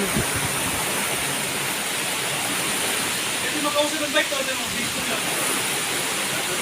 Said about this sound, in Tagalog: grabe ng lakas ng ulan dito sa atin